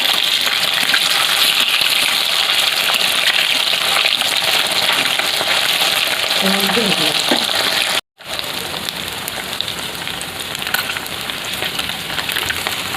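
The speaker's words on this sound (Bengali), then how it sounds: "এই শোল মাছ ভাজতে অনেকটাই টাইম লাগে, তো একটু টাইম নিয়ে ভেজে নেবেন" Snakehead fish frying in hot oil, giving a continuous loud sizzle and crackle that runs almost the whole time, with a brief break partway through.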